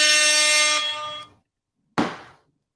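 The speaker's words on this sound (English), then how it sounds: "we will play the air horn" A loud air horn blares for over a second and cuts off, followed after a short pause by one more brief, sharp blast.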